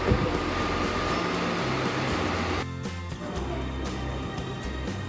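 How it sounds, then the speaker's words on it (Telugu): Steady rumble of a train at Pedana, Krishna District, Andhra Pradesh, with low mechanical hum and rail noise, a brief shift partway through as it begins moving, no voices. "ఆ ట్రైన్ అయితే స్టార్ట్ అయిపోయిందండి ఇక బయలుదేరుతుంది ట్రైన్ కూడా"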